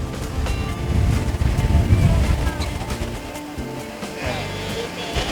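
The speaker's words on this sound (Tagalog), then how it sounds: "malakas talaga yung alon" Strong sea waves at a beach where swimmers are being called out of the water, a heavy rumbling surge with wind buffeting the microphone, loud and near.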